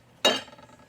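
Small screws dropped onto a magnetized stainless steel spoon, a single bright metallic clink with a short ringing tail, close and alone in a quiet room.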